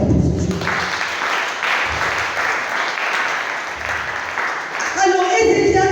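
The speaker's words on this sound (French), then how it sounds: "Acclame très fort pour ce Dieu." A church congregation claps loudly in a dense, sustained burst, with a voice rising over the applause near the end.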